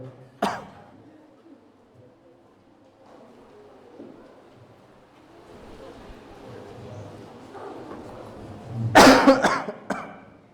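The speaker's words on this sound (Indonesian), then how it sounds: "Qadarullah masih batuk." A man coughs in a quiet room: one sharp cough near the start, then a louder burst of several harsh coughs toward the end, with soft background noise in between.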